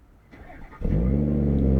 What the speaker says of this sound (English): reminding you how 6 cylinders from BMW really sound